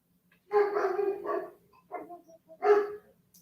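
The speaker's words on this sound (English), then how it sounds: "Dogs are barking." Dogs bark in a few short, fairly close bursts, a longer volley then a couple of single barks, alone against a quiet background.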